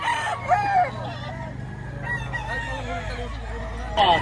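A Gilmore gamecock crows at a rooster market in Lipa, Batangas, with one crow near the start and another at the end over a steady murmur of the market.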